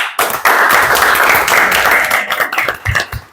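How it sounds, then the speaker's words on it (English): A class of students claps together in applause, a dense sustained patter of many hands that builds quickly, holds steady, then thins into scattered claps near the end. "And if you like this performance, give me a clap."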